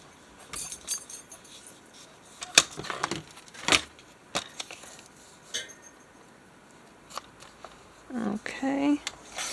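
Paper being cut down to a rectangle for a junk journal, with scattered snips, crisp crinkles and handling noises, some louder, under intermittent talk.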